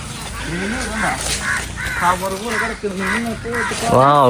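Crows caw outdoors in a rapid series of harsh calls, about eight in a few seconds, fairly close and loud, while a person briefly exclaims over them.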